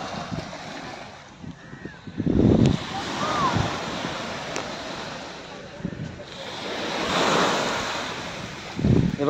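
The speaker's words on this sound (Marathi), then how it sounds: "लाटांचा आवाज बघा" Ocean waves break on the shore at Girgaon Chowpatty in Mumbai, a steady wash of surf mixed with wind buffeting the microphone, with several louder surges rising and falling and someone talking over it at times.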